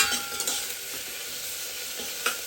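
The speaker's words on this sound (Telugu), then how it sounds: "మంచిగా మిక్స్ చేయండి మంచిగా కలుపుకోండి మంచిగా ఫ్రై చేసుకోండి" Country chicken masala sizzling in a pan while being stirred, a continuous crackling fry broken by a few sharp spoon scrapes and knocks against the pan, no voices.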